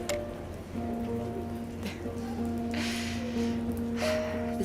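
Rain in the video game South of the Circle, a steady soft patter of falling rain under faint tonal background music, even and continuous with brief brighter swells.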